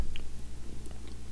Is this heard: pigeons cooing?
no